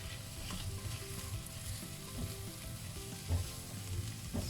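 Fresh oregano stir-fries in a hot pan, giving a soft, steady sizzle with occasional scraping stirs, fairly faint and close, with no talking.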